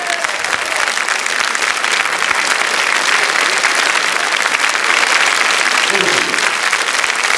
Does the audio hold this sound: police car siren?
no